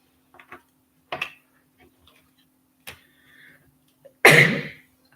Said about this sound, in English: I do apologise. I'm sneezing.